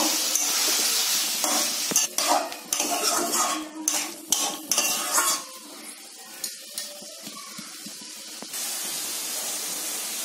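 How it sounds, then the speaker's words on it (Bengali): Mushrooms being stirred with spices in a pan over medium heat, a utensil scraping and clinking against metal in busy bursts over a soft sizzle, then settling into steady frying. "মিডিয়াম হিটে কিছুক্ষণ সব মশলা সহ সবগুলোকে আমি কষাবো।"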